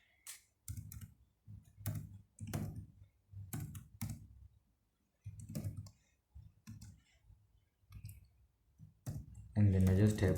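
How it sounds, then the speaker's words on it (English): Keys on a computer keyboard click in sparse, irregular bursts while Python code is typed, close and fairly quiet, ending in a brief louder rush of noise. "I just type whatever that I'm typing there, and then I press enter."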